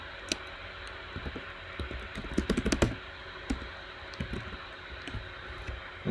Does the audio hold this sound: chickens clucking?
no